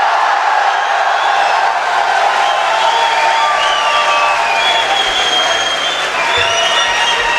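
An audience at an annual Urdu mushaira claps steadily, dense sustained applause filling the hall with a murmur of cheering underneath and no speech.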